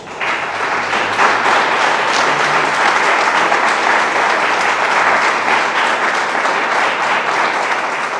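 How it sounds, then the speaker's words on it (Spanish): A church congregation breaks into sustained applause, dense and loud clapping from many hands that holds steady for several seconds with no talk over it. "Dale un aplauso al Señor."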